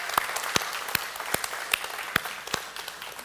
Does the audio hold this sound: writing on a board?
no